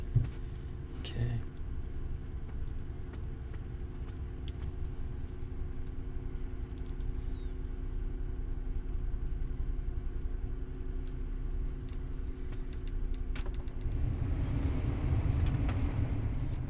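A car engine starts and settles into a steady idle after a blend door repair, running continuously as a low rumble under faint background noise, swelling slightly louder near the end.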